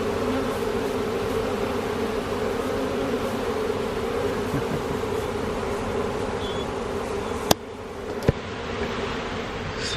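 A honeybee swarm marching into a hive box in a backyard gives off a loud, continuous buzzing drone close by, with a couple of sharp knocks near the end.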